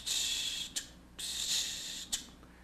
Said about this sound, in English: We actually want that first quarter note open, that accented beat 2 and 4 will be closed